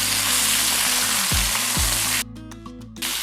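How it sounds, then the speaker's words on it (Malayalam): Beef searing in a pan over a high flame while a pot roast is prepared, giving a steady close sizzle throughout, with a couple of brief low knocks and the sizzle dropping away sharply near the end. "ഓരോ സൈഡും നമുക്ക് 3 മിനിറ്റ് നേരം ഹൈ ഫ്ലെയിമിൽ നമുക്കൊന്ന് സിയർ ചെയ്തെടുക്കാം"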